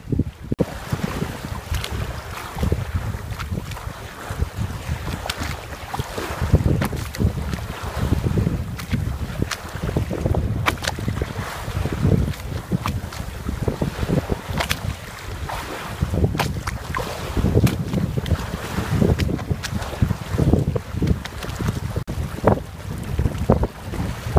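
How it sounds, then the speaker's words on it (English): Continuous rushing of water slapping against a hull and gusty wind buffeting the microphone as an electric boat runs steadily through rough, choppy water on Tampa Bay. "I'm going through a lot of chop, but the boat's handling it really well."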